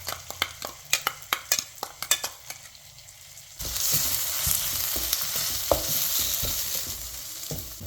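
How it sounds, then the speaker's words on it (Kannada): Green chili, ginger and garlic paste hits a hot pan: loud, steady close sizzling sets in partway through, after a run of sharp spoon and utensil clinks against the pan, with stirring scrapes over the frying. "ಹಸಿರು ಮೆಣಸಿನ್ಕಾಯಿ, ಶುಂಠಿ, ಬೆಳ್ಳುಳ್ಳಿ ಪೇಸ್ಟ್ ಮಾಡಿ ಇಟ್ಕೊಂಡಿದ್ದೀನಿ, ಅದು ಹಾಕ್ತಾಯಿದ್ದೀನಿ"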